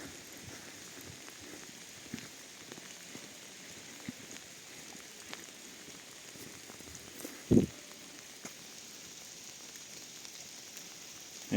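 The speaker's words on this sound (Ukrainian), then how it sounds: "трошки послухаємо дощ" Steady light rain pattering on a surface, a soft continuous hiss with scattered drops and one sharper tap, no voices.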